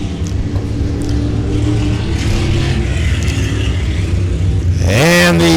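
Race cars roaring around a short oval during the John Burr Classic, a dense, continuous engine drone from several cars at once, with one engine revving up sharply close by at the end.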